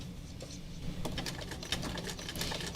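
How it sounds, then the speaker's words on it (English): Sewing machine running steadily as it stitches along the edge of a quilt and its binding with the presser foot, a close, continuous mechanical whir with a rapid needle rhythm and a few louder clicks. "I'm gonna run the presser foot along the edge of my quilt and binding"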